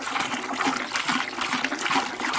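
Distilled water and coolant slosh and splash continuously as they are mixed in a bucket for a 2013 BMW X5, a busy churning liquid sound close by with no voices.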